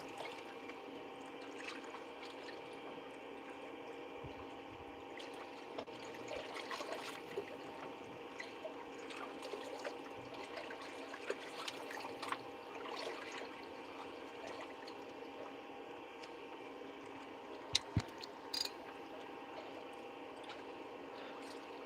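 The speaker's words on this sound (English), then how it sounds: "And listen to the waves." Ocean waves wash steadily onshore at night at a fishing spot, a soft continuous broadband surge with gentle swells and a few faint clicks, quiet and unbroken with no talking.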